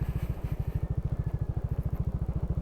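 A motorcycle rolls slowly down a bumpy dirt road with a steady, rapid low thumping from the engine, close by and moderately quiet.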